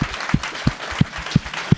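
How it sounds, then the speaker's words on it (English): A small audience at a Main Street Rising business event in Los Angeles gives a brief round of applause, heard as a few evenly spaced, moderately loud claps. "you can give her a round of applause"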